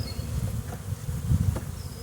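Close, steady buzzing of honey bees around a nuc box, a low droning hum with slight swells, quiet and alone without talk.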